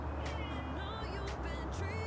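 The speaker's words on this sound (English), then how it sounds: "Not crying, but meowing." A stray cat at a front door meows repeatedly, several drawn-out cries close by over a low, steady rumble.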